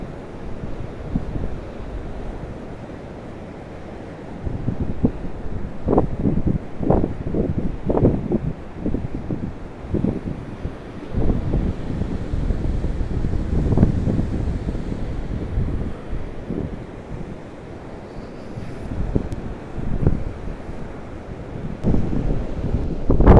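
Large waves crash and surge along a seafront promenade, heavy broadband roar with repeated louder breaking bursts, buffeted by strong wind noise on the microphone throughout.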